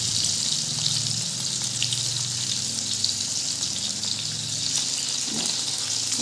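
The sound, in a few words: pointed gourd (potol) frying in pan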